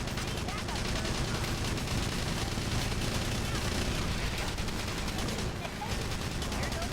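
Continuous gunfire and battle noise from the Battalion Wars video game on GameCube, a dense, steady wash of rapid shots and explosions filling the whole stretch, with a voice speaking over it.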